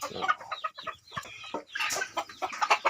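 Crossbred chickens, Thai hens and Leghorn roosters, cluck and squawk close by on a farm, making a busy run of overlapping calls with no talk.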